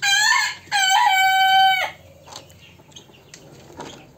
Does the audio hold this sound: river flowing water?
no